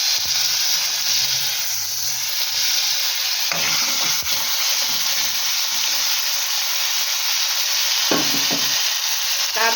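Panch phoron and garlic paste fry in hot oil, giving a loud continuous close sizzling hiss, broken by a few scraping knocks of a spoon as the mixture is stirred.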